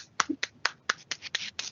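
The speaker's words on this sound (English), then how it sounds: "I'm going to give you a round of applause." One person near the microphone claps about nine crisp, separate times at the close of an online webinar, the sharp slaps coming in a quick, slightly uneven rhythm with nothing else around them.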